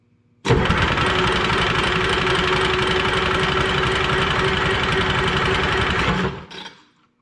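Detroit 353 diesel engine in a Lull machine running rough, a loud, steady, knocking rumble that holds for about six seconds before cutting off.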